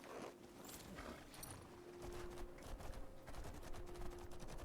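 Horse hooves clopping steadily in Skyrim, modded with Lorerim, a fairly faint repeating gait that runs under ambient game sound and a sustained tone.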